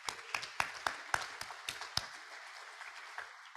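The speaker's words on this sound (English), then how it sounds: "that applause is for that whole group" Scattered claps from a small Rotary Club meeting audience, a handful of sharp, uneven hand claps close by that thin out and fade within a few seconds.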